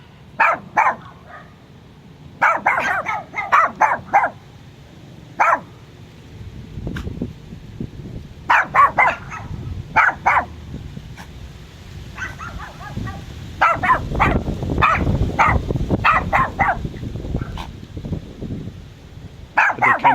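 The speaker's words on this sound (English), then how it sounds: "I always often wonder what they're saying when they bark at us like this." A dog barks at people from behind a fence, loud close bursts of repeated barks in clusters separated by pauses, with some low rustling and footsteps between them.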